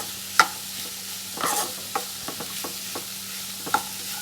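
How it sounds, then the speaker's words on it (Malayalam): Onions sautéing in two spoons of coconut oil in a pan, a soft continuous sizzle broken by several sharp spoon scrapes and taps as the pieces are stirred. "ആദ്യം തന്നെ ഞാൻ 2 സ്പൂണ് എണ്ണ വയ്ക്കുന്നുണ്ട്. നല്ല വെളിച്ചെണ്ണയാണ്. ഇതിലേക്ക് ഞാൻ ഉള്ളി ഒന്ന് നല്ലോണം ഒന്ന് വാഴണം."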